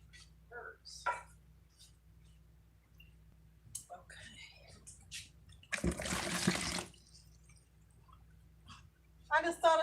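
Water splashes for about a second to rinse sugar out of a cup, midway through a quiet stretch with faint clinks and murmured speech around it.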